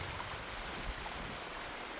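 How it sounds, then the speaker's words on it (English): Waterfall beside a bridge on Ben Nevis on a windy day, a steady, soft rushing of falling water with no voices. "There's a beautiful waterfall."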